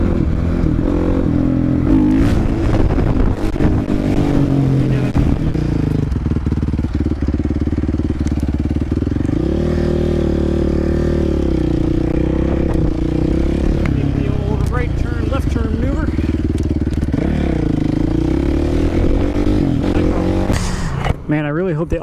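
A supermoto motorcycle ridden past a basketball court where children are playing, its engine droning steadily and shifting in pitch as it speeds up and slows down, with wind and rattle mixed in throughout.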